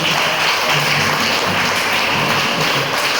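Applause for children performing Christmas carols at an outdoor event at Our Lady of Health Shrine, heard as steady, dense clapping from a crowd that holds evenly throughout without a break.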